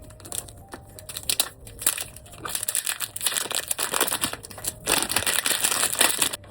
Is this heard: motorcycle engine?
no